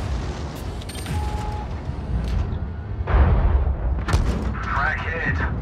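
Tank cannon fire in World of Tanks Blitz, featuring the FV215b 183, Super Conqueror and E 100, with a heavy boom around the middle and another shortly after, amid mechanical creaks and game sound effects, with a voice faintly present.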